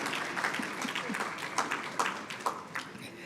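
A conference audience breaks into applause, a dense wash of clapping with a few sharper individual claps standing out, moderately loud throughout the short burst.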